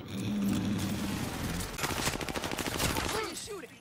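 Gunfire in a video game, a rapid burst of automatic shots that rattles for a couple of seconds after a noisy lead-in, with faint voices underneath.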